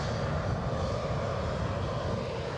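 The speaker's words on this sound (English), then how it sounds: "I think we might have a Cessna 560 XL Citation." A Cessna 560 XL Citation business jet approaching Edinburgh produces a steady engine roar at moderate volume that holds evenly through a short moment.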